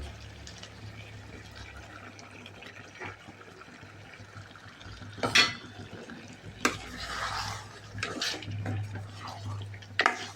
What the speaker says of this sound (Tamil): அரைச்சி வச்சுருக்கிற தக்காளி போட்டுக்கலாம்.